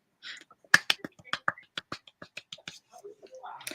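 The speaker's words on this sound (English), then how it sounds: "I never did understand the whole golf clap thing because it's supposed to be incredibly quiet." A quiet golf clap, soft light hand claps patting in a loose run of about a dozen, close and gentle, with faint voices murmuring at the start and end.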